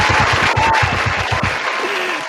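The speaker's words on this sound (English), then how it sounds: "Let's give you a round of applause." Clapping rings out for a guest on a live-streamed community show, a short burst of dense applause over a low rhythmic thumping, heard close and fairly loud.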